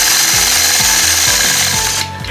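A sewing machine free-motion quilting a simple feather with a ruler gives a loud, steady close-up motor whir with rhythmic pulsing needle strokes, cutting off abruptly near the end.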